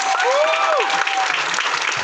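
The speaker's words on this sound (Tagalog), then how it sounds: "Pwede po bang pumalakpak ng malakas?" Loud clapping from an audience at a business success talk, a dense burst of applause lasting a couple of seconds with a rising whistle-like tone cutting through it.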